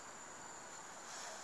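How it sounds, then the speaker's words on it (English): Crickets chirp in a steady, unbroken high drone, faint and far off, with no voices over it. "I hear crickets."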